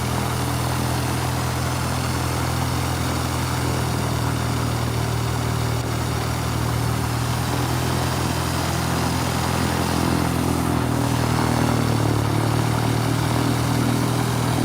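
A light propeller aircraft comes in to land at Elstree Aerodrome with a continuous droning engine and propeller hum. The sound is fairly loud and steady, and the pitch shifts slightly toward the end as the aircraft passes. No one speaks.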